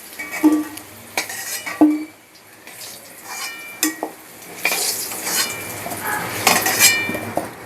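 Fried potatoes are lifted out of a pan with a utensil, producing irregular metallic clinks and scrapes over a faint background sizzle.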